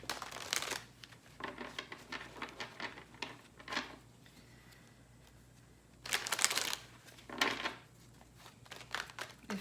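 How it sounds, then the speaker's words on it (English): A Herbal Tarot deck of cards being shuffled up close, in repeated bursts of crisp riffling and rapid flicking separated by short pauses, with no voices. "So what I'm doing here is I'm shuffling the cards."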